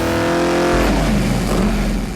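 A 1974 Dodge Challenger pro touring build with a modern self-learning fuel-injected engine runs loud and close, a rough rumbling idle that rises into a brief rev partway through.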